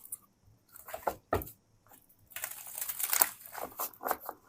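Tarot cards are shuffled up close in quiet bursts of soft riffling and papery flicking, with short pauses between handfuls and a longer, busier run of shuffling toward the end.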